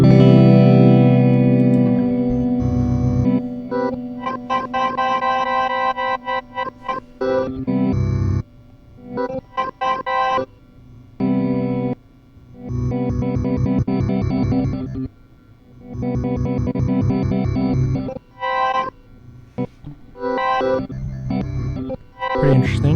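An electric guitar plays through a MOOD effects pedal in its modify tape mode, choppy strummed phrases with warbling, pitch-bending, reverb-washed tails, stopping and restarting several times in a loud and close sound.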